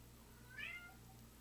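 A cat gives a single brief meow indoors, faint and somewhat distant over a low steady background hum, with no talking.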